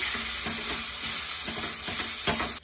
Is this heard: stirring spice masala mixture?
yes